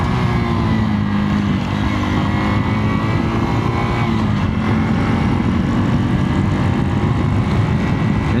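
A Honda Super Cub 110, a 110cc commuter motorcycle, rides steadily along a road with a continuous, loud engine drone and road and wind roar throughout, no voices.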